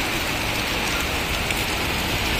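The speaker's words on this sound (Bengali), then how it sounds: "বৃষ্টির পরিমাণ বাড়ছে" Rain falls on a Dhaka street during gusty weather, a thick, steady hiss of drops hitting the pavement, loud and unbroken with no voices.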